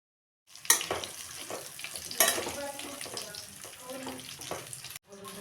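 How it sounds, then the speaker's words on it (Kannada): Brinjal pieces fry in oil over a medium flame, giving a moderate crackling sizzle with a couple of sharp spattering bursts and occasional stirring scrapes, steady under the pan noise. "ಒಂದು 4 ನಿಮಿಷಗಳ ಕಾಲ ನಾವು ಇದನ್ನು ಮೀಡಿಯಮ್ ಫ್ಲೇಮಲ್ಲಿ ಎಣ್ಣೆಯಲ್ಲಿ ಫ್ರೈ ಮಾಡಬೇಕಾಗುತ್ತೆ"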